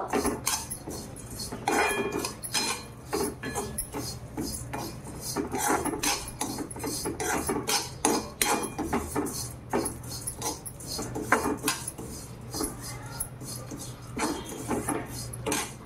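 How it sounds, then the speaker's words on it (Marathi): Vermicelli roasts in a pan for upma while a utensil clinks and scrapes against the metal in irregular bursts, close and fairly quiet, with no speech. "आता ते पाणी उकळोस तर आपण ह्या शेवाळ्या भाजून घेऊ छान, तांबूस कलर येईल तोपर्यंत."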